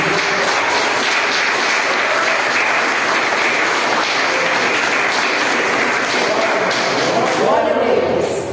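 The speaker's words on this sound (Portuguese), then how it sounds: "Vamos aplaudir Jesus, igreja." A church congregation applauds during an evening service, a sustained, loud roar of many hands clapping continuously, filling the room with a dense, even wash that never lets up.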